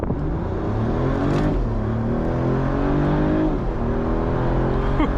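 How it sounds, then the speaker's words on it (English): A 2024 Mercedes CLE 450 Cabriolet AMG with a 3-liter six-cylinder engine accelerates hard from inside the car. The engine note climbs loudly and steadily, with two gear shifts briefly dropping the pitch before it rises again. "what kind of acceleration can we get from this 3-liter 6-cylinder"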